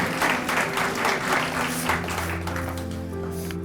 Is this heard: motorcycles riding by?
no